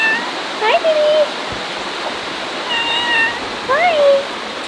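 A domestic cat meows several times close by, rising and falling calls in two bursts, over a constant rushing water background in an old home in Portugal; a voice speaks softly to it between calls.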